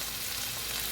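Steak frying on high heat in a pan, a steady, dense sizzle that holds close and even for the whole moment with no voices over it.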